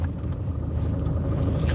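A steady low rumble fills a car cabin while driving on a chilly, overcast day, with engine and road noise droning evenly and close throughout.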